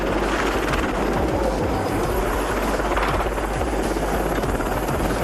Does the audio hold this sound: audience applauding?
no